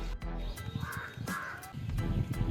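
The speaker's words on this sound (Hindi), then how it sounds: "ये देखो बर्ड्स वगैरह भाई बहुत सारे हैं" Crows cawing among bamboo trees behind a house, a run of harsh calls over steady background noise.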